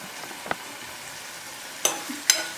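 Methi bhaji curry with added cream frying in oil over a low gas flame, a soft continuous sizzle close by with a few sharp stirring clinks and scrapes near the end.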